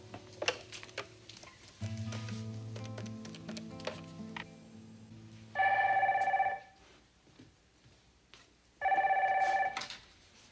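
A telephone rings in two loud, sustained electronic bursts, with quiet handling clicks and a low tone in between.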